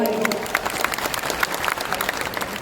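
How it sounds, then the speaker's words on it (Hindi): An audience in Bapu Sabhagar hall in Patna bursts into loud, dense applause at a political gathering, the clapping steady and close with scattered voices and cheers mixed in. "इनके लिए जोरदार ताली दीजिए भाई।"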